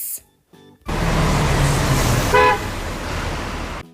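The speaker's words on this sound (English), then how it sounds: "bus." A bus on a road, with a steady loud engine and traffic rumble that starts abruptly after a few short clicks, and a brief horn toot partway through, heard close and alone.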